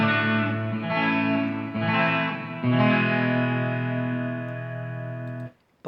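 A 2011 Fender American Stratocaster electric guitar with Fender pickups strums a few sustained chords, bright and ringing with a slight effect, each chord held and slowly fading before cutting off.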